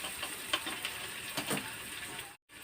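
Dried shrimp and onions fry in a pan with a soft, steady sizzle and faint crackles and pops, moderately close, with a brief drop to silence near the end.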